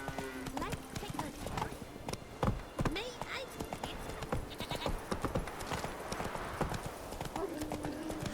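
Hooves of Roach, the horse in The Witcher 3, clip-clop steadily at a trot on the Skellige isles, close and distinct, while a voice speaks over the hoofbeats and a whinny sounds briefly.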